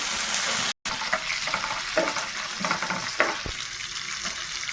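Crushed garlic, urad dal, cumin and curry leaves sizzle steadily in hot oil as a tempering for coriander-tomato chutney, a close, continuous crackle with a few sharper pops and a brief cut near the start.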